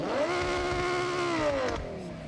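An Audi R8's 5.2 liter naturally aspirated V10 in the Forza Horizon racing game revs up into a smooth, rising wail, holds briefly, then eases off, loud and close.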